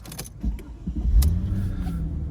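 A 2003 Mercedes-Benz SL500 engine cranks and fires up, settling into a steady low idle rumble after a few brief clicks, close and fairly loud.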